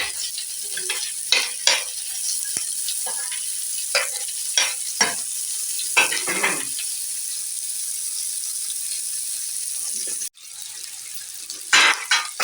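White onion frying in a pan makes a steady sizzle, and a utensil stirring it adds repeated short scraping bursts. A brief break comes near the end before the stirring resumes.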